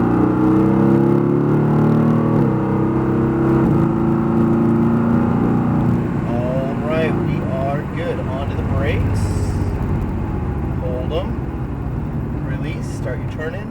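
A Mercedes-AMG GT R sports car's engine drones steadily on a racetrack at Speed Vegas, a constant loud hum with shifting pitch under an instructor's near-continuous coaching voice.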